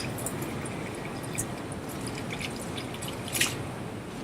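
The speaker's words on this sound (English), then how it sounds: "step up to the sink, wet my hands, take some soap, wash" Hands washed with soap under running water at a sink give a steady close wash of splashing and dripping, with a couple of brief brighter splashes and no talking.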